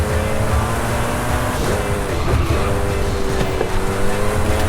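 Koenigsegg Jesko engine at full throttle in Forza Horizon 5, a loud continuous roar with rising and shifting pitch, up close and steady for the whole stretch.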